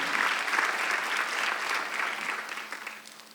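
Congregation applauding during a Sunday church service, a full room of steady clapping that holds strong, then thins and fades toward the end.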